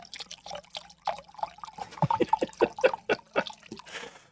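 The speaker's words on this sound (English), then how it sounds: "Joe's pouring himself a vodka cranberry" Vodka cranberry poured into a glass, a run of close liquid splashes and glugs with a faint trickle building in the middle, fairly loud and alone.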